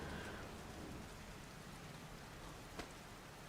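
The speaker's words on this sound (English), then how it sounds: "It's fucking raining out." Steady rain falls in the video game Heavy Rain, a soft even hiss of drops that stays faint and constant with a single small tap near the end.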